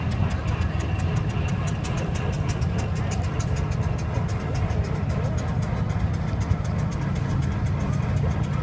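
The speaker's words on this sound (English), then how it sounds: "It's a very quiet engine owned by Ian Smith from Ruckland." A fully remachined steam traction engine with new gears and rubber-mounted wheels runs quietly in the grand parade at a steam rally in Echuca, giving a steady, even mechanical rumble and hum throughout.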